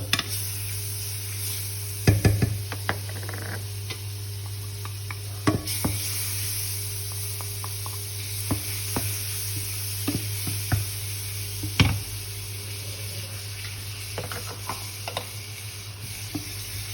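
Food sizzles steadily in hot margarine and cooking oil while a utensil stirs it, with occasional scraping clinks against the pan, close and fairly loud over a constant low hum.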